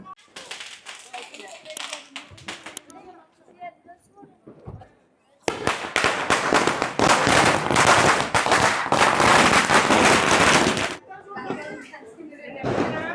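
Loud Diwali firecrackers bursting in a rapid, dense volley of sharp cracks for several seconds, after scattered nearer pops, with people talking before and after the barrage.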